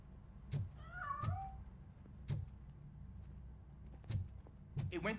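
A cat in the RoboCop Rogue City video game meows once, a short wavering cry that sounds muffled, as if from inside a piano. Several sharp thumps and knocks sit over a low rumbling game background.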